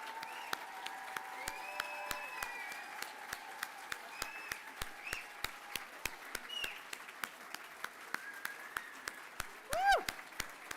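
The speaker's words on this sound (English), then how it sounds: "let's have a big round of applause for all of our recipients tonight" Scattered applause at an evening community champion awards ceremony in Toronto, sparse individual claps ringing out over a low murmur of voices, with a brief louder cheer near the end.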